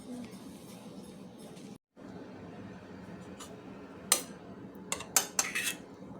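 A pressure cooker lid clanks shut and its weight is set on top in a home kitchen, giving several sharp metallic clinks and taps late in the moment over a steady low background hum.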